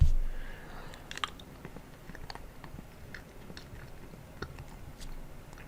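Close, quiet chewing of 23-year-old bubble gum, stiff and flattened like bread, from a 1997 Topsun Pokémon pack: soft wet smacking and occasional crunchy bites in an irregular rhythm, with no talking.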